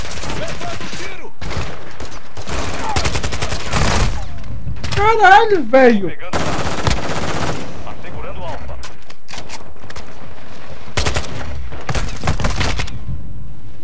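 Bursts of rapid gunfire crackle in volleys with short gaps, mixed with explosions and a shouted voice over the din, in Call of Duty: Modern Warfare II multiplayer.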